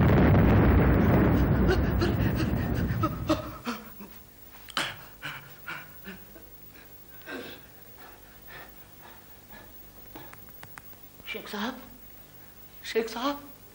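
A cannon fires with a loud, roaring boom that rumbles and decays over about three seconds, followed by people talking in a quieter scene.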